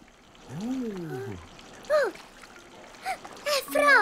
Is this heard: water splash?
yes